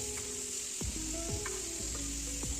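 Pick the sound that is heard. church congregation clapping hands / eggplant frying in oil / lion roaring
eggplant frying in oil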